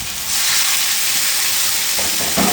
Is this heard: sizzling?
yes